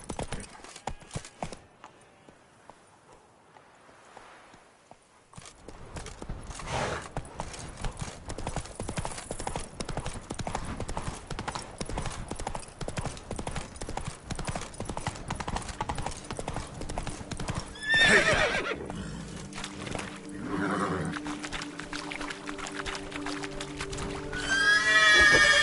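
The horse Roach gallops in The Witcher 3 video game, hooves clip-clopping in a rapid, continuous rhythm for most of the stretch after a quieter opening, with a whinny partway through and no speech.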